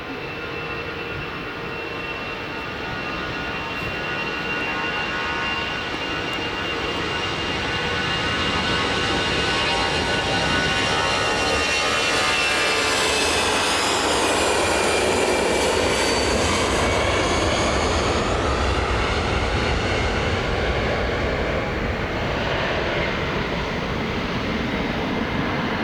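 An airliner's jet engines roaring on the takeoff roll at Manchester Airport, a loud steady rumble that builds and whines upward in pitch as the plane accelerates, heard from inside the cabin without talking.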